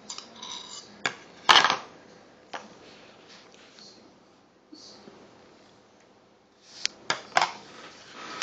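A 17-month-old toddler eats with a fork and spoon, the cutlery clinking and scraping against a dish in a few scattered sharp bursts, near and fairly clear, with long quiet stretches in between.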